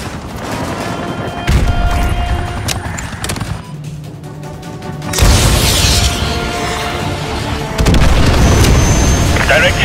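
An AGM missile strikes an enemy helicopter at a Russian naval base in Call of Duty Modern Warfare 2 Remastered, with loud booming blasts and rolling gunfire layered over music and game chatter throughout.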